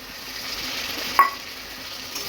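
Tomatoes softening in hot oil in a pan with curry leaves for a spicy potato bhaji, giving a steady, close sizzling hiss with one brief clink of a utensil midway.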